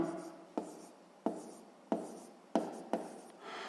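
Pen or pencil strokes writing numbers during a sixth-grade math exercise, six short scratchy marks in a steady rhythm, close and fairly quiet, with no talking.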